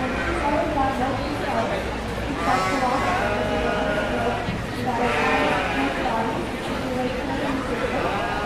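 Yearling ewes bleat at a sheep show, their wavering calls rising repeatedly over a dense, steady murmur of crowd chatter in a noisy show barn.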